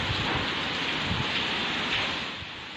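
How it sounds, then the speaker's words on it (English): Heavy rain from Storm Jasper in Queensland, Australia, pours down in a dense, constant roar that eases slightly at the very end. "The storm was accompanied by heavy rain"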